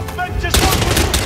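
Gunfire in the Hitman: World of Assassination video game bursts out in a rapid volley of loud, close shots after a brief quieter lead-in, with several sharp cracks in quick succession.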